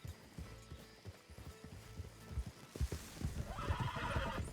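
A horse in Red Dead Redemption 2 whinnies while hooves clop, faint and mixed with game ambience, the neigh rising near the end.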